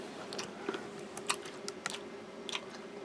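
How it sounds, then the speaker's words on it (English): Crunchy gum from a survival kit chewed close up, hard candy-like shell cracking in a series of sharp irregular crunches over a quiet background hum. "It's all crunchy and it crunches like hard candy and then it turns into gum."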